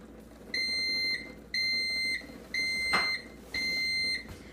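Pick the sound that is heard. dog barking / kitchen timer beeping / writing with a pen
kitchen timer beeping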